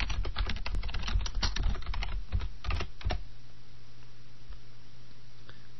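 Fast typing on a computer keyboard for a find-and-replace entry in Excel, a dense burst of crisp, close keystrokes for about three seconds, then quiet room tone.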